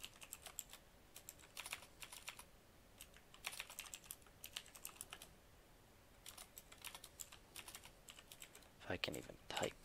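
Fingers typing on a computer keyboard, quick bursts of close, crisp key clicks broken by short pauses, ending in a louder flurry, with faint talk in the background.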